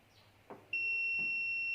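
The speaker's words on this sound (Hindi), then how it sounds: "तो ये हमारी बीप देने लगा मीटर।" A multimeter on continuity mode checks a microwave oven wire and jumper, giving a sudden loud, steady high-pitched beep that holds without a break after a couple of faint taps.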